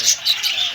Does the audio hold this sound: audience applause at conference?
no